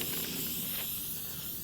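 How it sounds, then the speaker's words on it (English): An aerosol can sprays silicone release onto the boards and vinyl siding of a concrete casting form, one continuous close, steady hiss lasting the whole moment. "I'm also going to come back in here and spray a little bit of silicone"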